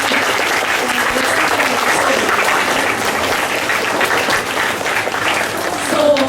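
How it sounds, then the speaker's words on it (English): Students and teachers applauding at a school assembly on equality, a sustained round of clapping from a hall full of people, moderately loud and steady, with faint voices mixed in near the end. "Big round of applause for class"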